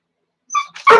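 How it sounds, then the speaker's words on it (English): A dog gives a high, thin whimper followed by a sharp, loud yip or bark, heard close and alone after a moment of silence. "hey, your dog's creating a problem."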